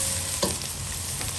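Onions for mombar filling soften in a hot pan with a constant, close sizzle, broken by one brief scrape of a stirring utensil; no one speaks.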